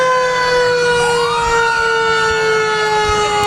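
A fire department ladder truck sounds its siren in a Fourth of July parade in Park River, a loud, close, sustained wail with steady tones and a low rumble beneath.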